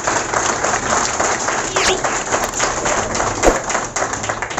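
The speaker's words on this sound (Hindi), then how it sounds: "उनके लिए जोरदार तालियां प्रदान करते हैं।" An audience at a meeting in a Varanasi centre breaks into loud, dense applause, many hands clapping steadily at close range for the whole stretch.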